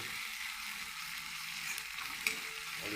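Ground spice masala with turmeric sizzles and fries steadily in a hot pan while being stirred, a close continuous crackling hiss with small scraping bumps and no talk.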